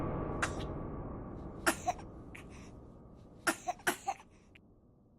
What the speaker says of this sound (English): She started coughing and choking.